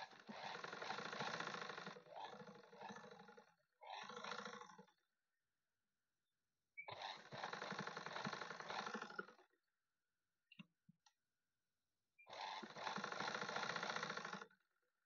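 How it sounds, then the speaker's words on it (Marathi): Electric sewing machine stitching the reverse side of a blouse, running in three long steady bursts with short pauses and brief clicks between them, close and loud. "तर मी अशी पूर्ण शिलाई करून घेत आहे उलट्या भागावरून सारी."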